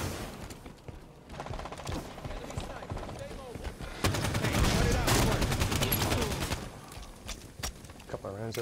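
Rapid gunfire in the Halo 5 Guardians arena multiplayer, bursts of automatic rounds building from a patter into a dense, loud volley near the middle, with game effects and some talk mixed in.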